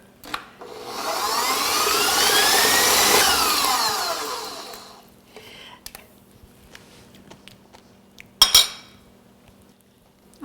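Keto maple pecan cheesecake batter being mixed, likely with an electric mixer, a steady whirring drone for about five seconds that then stops, followed by quieter clinks and a sharp knock near the end.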